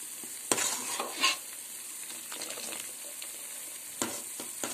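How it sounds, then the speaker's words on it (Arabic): A spoon stirs and scrapes around a pot of white Adeni incense mixture being cooked, in a few brief strokes over a soft, steady sizzle, close and fairly quiet. "نجلس نحرك على القدر"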